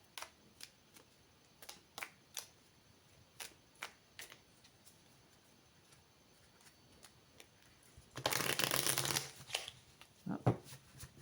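A deck of tarot cards is shuffled in a quick riffle burst after a run of light, evenly spaced taps and clicks, close and otherwise quiet.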